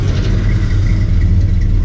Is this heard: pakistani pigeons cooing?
no